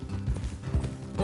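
Horses' hooves clip-clop in Red Dead Redemption II, a quick, fairly loud run of uneven thudding beats over about a second, close by, without talk.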